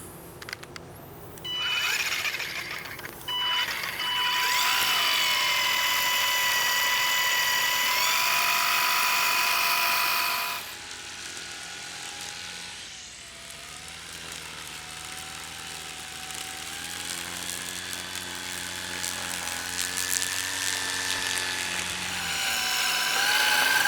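A Ryobi 40V battery-powered electric string trimmer whines at a steady high pitch for several seconds, then its tone drops and shifts as the motor changes speed, close and loud with no talking.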